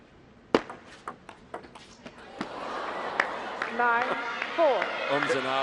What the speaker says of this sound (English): Ums and ahs from the crowd.